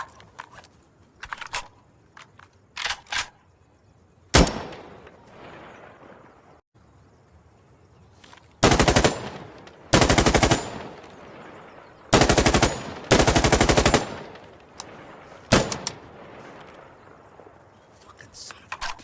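Weapons fire in the Insurgency Sandstorm video game: several loud bursts of sustained automatic fire, each lasting a second or so, sit between sharp single shots and short quiet gaps, with some talk between the bursts.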